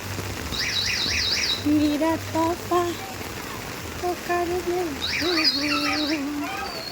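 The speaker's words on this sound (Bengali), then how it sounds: "কেমন জোরে বৃষ্টি পড়ছে" Steady hiss of heavy rain pouring down, with a person talking over it and a few bright bird chirps breaking through.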